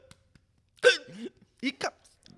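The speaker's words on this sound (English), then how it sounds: "Hiccups." Several sharp hiccups from a person during a podcast conversation, short abrupt bursts spaced apart, close and fairly loud with speech around them.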